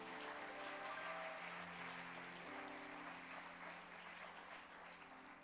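A church congregation applauds together to acclaim the Lord at a night worship service, with steady, dense clapping holding throughout and musical tones sustained underneath.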